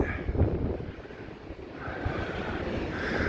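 Strong gusty wind on the Blackpool seafront promenade buffets the microphone with a heavy, roaring rumble that swells and eases, continuous and close, with no talking.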